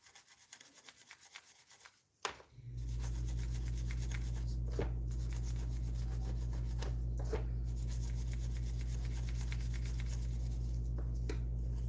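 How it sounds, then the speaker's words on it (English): Thick paint and primer being stripped from a model vulture kit, a steady loud rasping, humming scrub that starts abruptly after a brief quiet moment and continues without pause. "So I'm stripping it to get rid of all the thickness of paint and everything they have on here."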